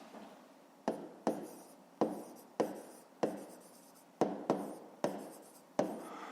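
Pen strokes scratch across paper as numbers are written out by hand for a fifth-grade math exercise: a series of quick, close scribbling bursts with short pauses between them, heard alone without talk.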